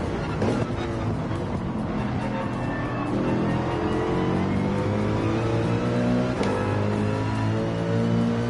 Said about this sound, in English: there must be a car right on us at the moment